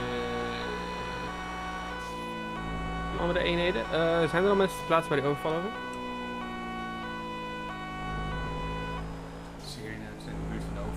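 A steady police siren from the video game GTA 5 sounds through the whole stretch, with Dutch-speaking voices talking over it on police radio.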